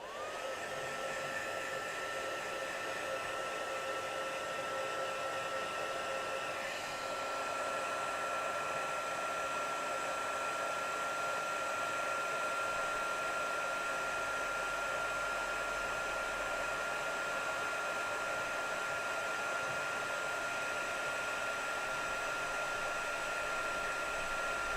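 A crafting heat tool blows hot air in a steady, loud, unbroken whoosh while heat-setting embossing ink on a paper butterfly die cut, running continuously with no talk.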